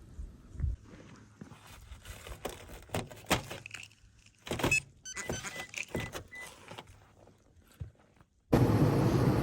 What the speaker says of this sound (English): We started the car, let it warm up.